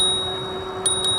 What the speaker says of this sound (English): And that bell is not that bad.